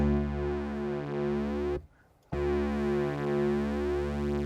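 Sustained synthesizer tone with distortion adding grit and buzz, a steady harmonically dense drone that cuts out briefly and resumes, loud and alone without talk.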